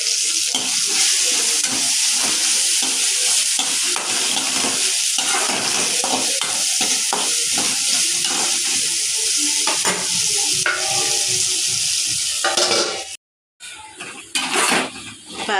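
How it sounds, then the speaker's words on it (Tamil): Green chilli, curry leaves and coriander sautéing in a hot pan, giving a steady loud sizzle with stirring scrapes throughout and a brief pause near the end. "கொஞ்சம் நல்லா வதங்க விடுங்க."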